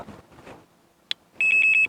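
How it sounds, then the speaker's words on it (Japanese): A rapid series of about six high electronic beeps from a roller-type carp fishing bite alarm near the end, following muffled movement and a single short chirp. "ヒットアラーム、 これバイトアラームって言うんだけどね"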